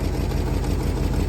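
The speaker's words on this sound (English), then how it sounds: "it's already just idling away." A dump truck's diesel engine idles steadily after only a brief warm-up, a loud, continuous low rumble with an even throb and no voices.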